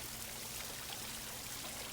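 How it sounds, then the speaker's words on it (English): Steady broadband rush of an outdoor waterfall running a little stronger than usual, a continuous close wash of falling water with no talk over it. "The waterfall's a little stronger than the last time you were here."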